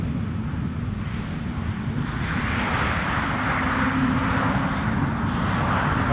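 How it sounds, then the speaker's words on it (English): An Airbus A320-300 series airliner at Edinburgh Airport, its engines a continuous, fairly loud rumbling roar that builds gently and holds steady, with no talking over it. "Here is Airbus the A320"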